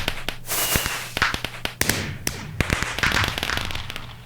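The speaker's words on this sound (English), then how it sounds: "Achievement, fireworks coming in now." Video game achievement fireworks in Logis-Tech, a rapid burst of sharp crackling pops and thumps over a whooshing rush, loud and dense throughout.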